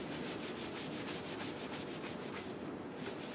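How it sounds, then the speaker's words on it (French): Tarlatan cloth rubbed firmly across an inked engraving plate, a close, continuous scratchy swishing in quick repeated strokes, alone without talk. "Maintenant, avec la tarlatane ici qui est plus propre, je vais encore nettoyer un peu plus."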